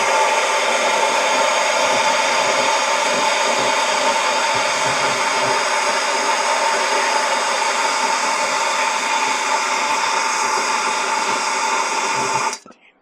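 Hickory wood pellets in a Z Grills pellet smoke tray catch under a torch, giving a loud, constant roaring hiss that holds steady for about twelve seconds, then cuts off abruptly.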